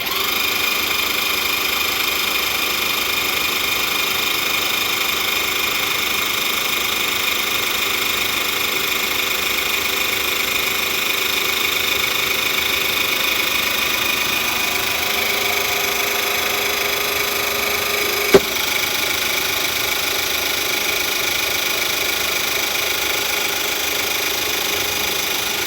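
An electric hydraulic floor jack lowers a car with a continuous motor whine and buzzing hum that runs steadily for the whole stretch. One sharp click comes near the end, and no voices are heard.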